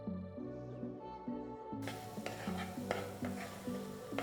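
A spoon stirring red chilli sauce and tomato ketchup with Italian seasoning and mozzarella in a pan for masala macaroni: soft, steady scraping and mixing strokes that sit under background music.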